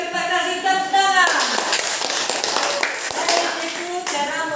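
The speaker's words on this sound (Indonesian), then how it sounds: "Oke, terima kasih, tepuk tangan." Students in a classroom clap after a classmate reads a speech aloud, a loud close burst of many hands that runs for several seconds, with children's voices and talk around it.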